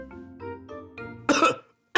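A couple of harsh, loud coughs burst out after some quiet murmuring, followed by a short pause and another cough starting.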